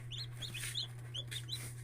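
Chickens clucking and calling at close range over a steady low hum, several short overlapping clucks throughout.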